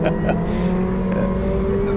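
Touring race cars roar off the start line at Brands Hatch Indy circuit, a loud, dense engine drone with rising revs, heard under excited commentary.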